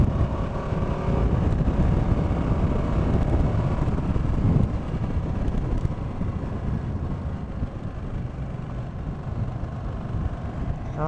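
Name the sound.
wind noise on microphone while riding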